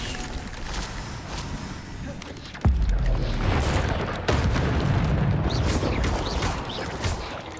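Fiery spell blasts of Incendio burst out during Hogwarts Legacy combat, two heavy booms landing a couple of seconds apart over a rumbling, crackling battle din.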